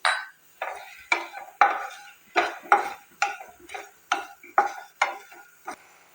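A utensil scrapes and clinks against a pan in an even rhythm while spices are dry-roasted with kasuri methi, about a dozen crisp stirring strokes, close and clear with no talk.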